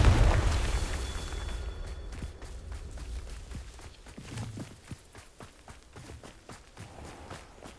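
Confringo blasting spell explosions in Hogwarts Legacy: a heavy burst at the start fading into a rumble, followed by a string of sharp impacts and crackling hits, alone without speech.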